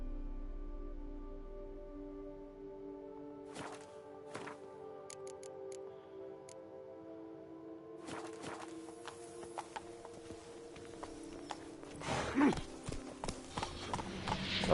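Hoofbeats of the horse Roach in The Witcher 3, a steady clip-clop rhythm over game music, growing busier and louder in the second half with scattered clatter.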